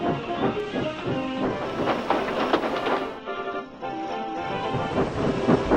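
Steam engine train in a Thomas & Friends children's story, a loud rhythmic chuffing and hissing that dips briefly in the middle and then carries on puffing along.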